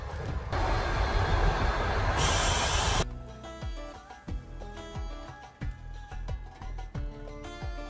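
A train rumbles past with a rushing roar, then its wheels clack rhythmically over rail joints as it moves along steadily.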